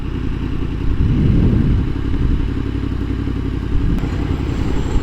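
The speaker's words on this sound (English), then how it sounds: "Oh, that's an Aprilia Tuono." An Aprilia Tuono motorcycle rides by on a street in Salt Lake City, Utah, its engine swelling loud and close for a moment before fading back into steady road and wind rumble.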